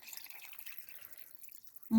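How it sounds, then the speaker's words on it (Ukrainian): Cold boiled water poured into a bowl of homemade okroshka, giving a faint, quiet trickle and drip for almost two seconds before a voice starts speaking at the very end. "І тепер ми додаємо воду 2 літри."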